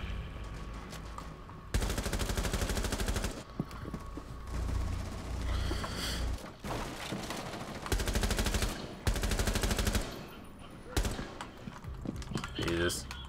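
Automatic gunfire in Rainbow Six Siege rattles in several long, loud bursts separated by short pauses, with faint game voice and effects between sprays.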